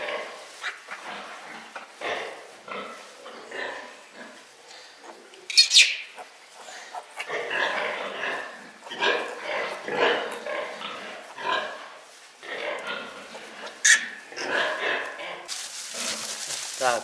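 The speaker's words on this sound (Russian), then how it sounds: "Вот тут и у нас свинка. Кабанчик." Pigs at a farrowing on a farm grunt and squeal in irregular bursts, with sharp high squeals from piglets rising over low grunting, close by, while a person talks intermittently.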